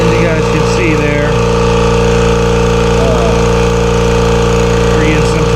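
A Kobalt Quiet Tech 29-gallon air compressor pumps steadily with a loud, constant droning hum, close by, with faint intermittent chirps over it.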